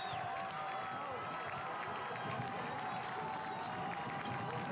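Crowd at a high school varsity football game cheering and applauding as a player hypes them up, a steady wash of distant cheers and clapping throughout, with faint talk mixed in.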